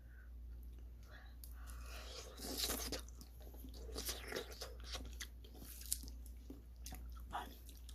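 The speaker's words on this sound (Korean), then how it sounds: "무도 한번 먹어볼게요." Soft, wet mouth sounds of close chewing on tender braised radish from a Korean braised pomfret dish, quiet squishy bites over a steady low hum, no talk.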